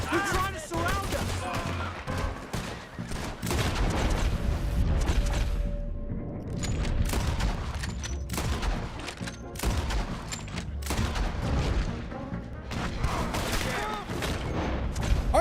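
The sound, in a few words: gunshots in Red Dead Redemption 2 video game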